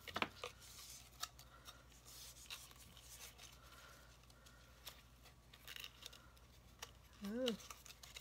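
Scissors snipping ribbon while making a break-out card, soft intermittent cuts and rustling close by at low volume, with a brief voiced sound near the end.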